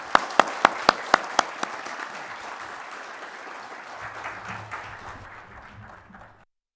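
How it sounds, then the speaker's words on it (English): Conference audience at the Bhutan Climate Action Conclave 2022 applauding the panelists: a few sharp, loud claps at the start, then a sustained wash of clapping that gradually fades out, with a faint low murmur toward the end. "A round of applause for them"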